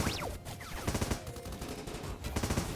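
In Starbound, a Marked Shot sniper rifle fires on marked enemies. Sharp, rapid gunfire bursts crowd densely together amid loud game effects.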